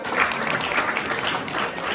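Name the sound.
audience applause for an award winner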